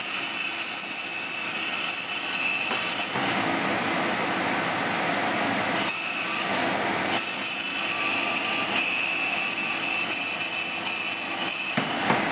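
A homemade DC motor runs at high speed, about 7,000 RPM, a loud steady whine and hum with brief dips in level, no talk over it.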